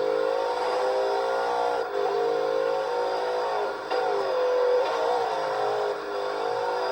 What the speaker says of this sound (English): We hold the accelerator just a little bit more coming into turn 7 there.